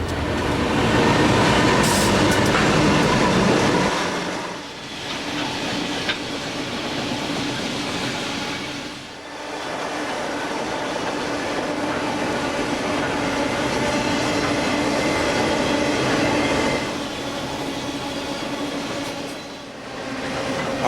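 A CSX train rolls past beside the Beaver River in Falston, Pennsylvania, a steady loud rumble of railcars with wheel clatter and brief squeals, the sound swelling and dipping as cars go by, with no talking.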